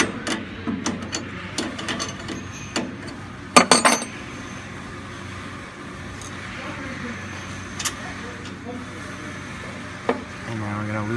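A 7/8 wrench clicks and clanks against a metal check valve fitting while it is loosened on a Helio-Surge unit, giving sharp intermittent metallic taps and ratcheting under someone talking.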